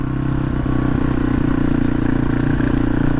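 A 1988 Yamaha XT350 single-cylinder motorcycle engine runs steadily and close up, a loud, even thrumming with a light mechanical clatter.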